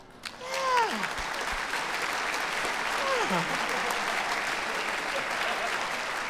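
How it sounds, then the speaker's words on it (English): A live audience breaks into sustained clapping that holds steady for several seconds, with a couple of whooping vocal cries near the start. "Most of you are clapping."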